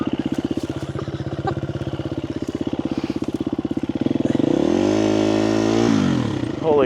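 A dirt bike engine putters in a steady rapid thump, then revs up hard into a loud sustained rising roar with the clutch and throttle during an urban ride.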